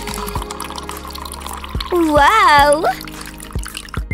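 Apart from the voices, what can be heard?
bath water for a Barbie doll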